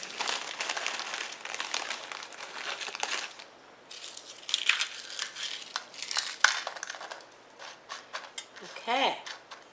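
Fritos corn chips are crushed by hand at a dinner table, giving loud, crackly bursts of crunching and crinkling in uneven handfuls, up close, with short pauses between squeezes.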